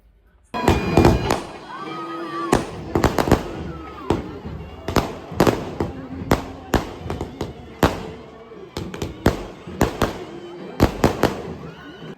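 Firecrackers burst in rapid irregular succession during a festival procession in Goa, loud sharp bangs close by with echoing tails, while voices and a crowd carry on between the blasts.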